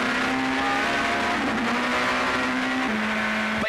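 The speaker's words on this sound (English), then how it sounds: "And as the lights turn green, it's Shaun van der Linde already trying to sneak his way through." Opel Vectra super touring race cars launching off the grid at a 1996 South African championship race start, a loud massed engine roar with one high held note that steps down in pitch as a car shifts gear.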